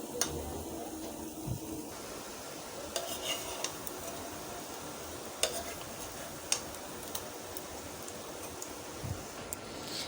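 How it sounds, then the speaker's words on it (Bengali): Fish roe fritters frying slowly in a pan over a low gas flame: a soft, steady sizzle with occasional light clinks and scraping of a utensil, no talking. "অল্প গ্যাসে ভেজেছি কিন্তু সময় লেগেছে অনেকটা।"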